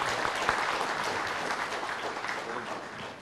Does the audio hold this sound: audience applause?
yes